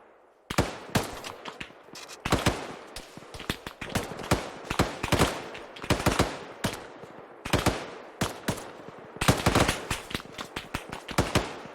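Sustained suppressing gunfire in an Arma 3 battle: dense bursts of automatic weapons fire and scattered single shots, loud and close, crackling almost continuously with brief gaps, no talking.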